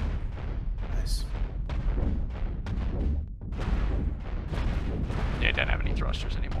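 Spaceship cannons in the space combat game Cosmoteer fire in rapid, repeated booming bursts throughout, loud and dense, with a brief lull in the middle and people talking over the barrage.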